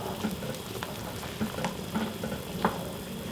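Steady bubbling and crackling from a pot of rapidly boiling water blanching beef ribs, with soft irregular pops over a constant hiss, close by.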